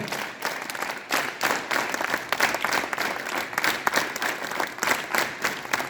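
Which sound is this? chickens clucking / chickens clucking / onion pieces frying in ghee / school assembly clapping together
school assembly clapping together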